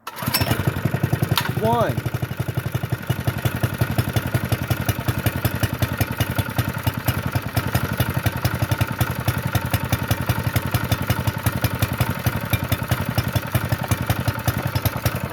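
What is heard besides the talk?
Honda GX120 minibike engine pull-started and running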